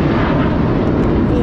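A J-20 stealth fighter jet sweeps low over a hilltop at an air show after rain, a loud, dense roar of jet engine noise filling the whole moment without talk.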